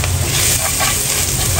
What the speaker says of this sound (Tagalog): pag malambot na yung sibuyas, lagyan na natin yung bawang